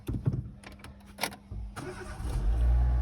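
A Renault Megane 2 with a 1.4 petrol engine cranks over with a few clicks and whirs, then catches and settles into a steady, rising idle rumble; close and fairly loud, no speech.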